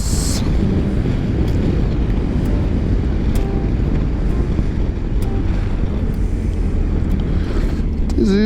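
Rider on a BMW R 1250 GS Adventure motorcycle on a cold day, the steady engine drone buried under heavy, constant wind buffeting on the microphone, with a brief voice near the end.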